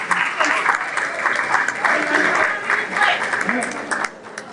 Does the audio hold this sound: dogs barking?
no